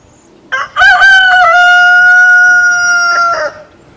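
A rooster crows loudly once, a long sustained cock-a-doodle-doo close to the microphone, with quiet background before and after.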